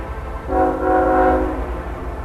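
A train horn sounds one sustained blast of about a second, loud and near, over a steady rumble of passing rail traffic in Pittsburgh.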